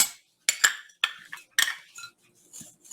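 A spoon or whisk clinks against a mixing bowl as dry ingredients are stirred into flour for pumpkin bread: a handful of sharp, irregular taps and scrapes, close and fairly quiet, with no talking.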